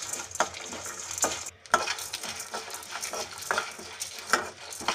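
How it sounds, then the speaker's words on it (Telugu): Green chillies and a pinch of asafoetida fry quietly in a pan, a soft sizzle broken by repeated spatula scrapes and taps against the metal. "ఇప్పుడు చిటికెడు ఇంగు కూడా వేసి వేయించుకోవాలి."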